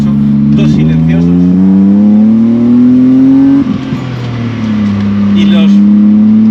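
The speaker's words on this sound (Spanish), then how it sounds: "Este escape tiene 2 catalizadores para poder homologar el motor de 28, 2 silenciosos" A BMW E30 fitted with a swapped 2.8-litre M52B28 inline-six runs through a homologated exhaust with two catalytic converters and two silencers, giving a steady, loud engine drone that rises in pitch, dips briefly, then settles and holds close by.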